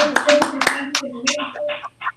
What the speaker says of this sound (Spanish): El aplauso de todos los compañeros y profesores.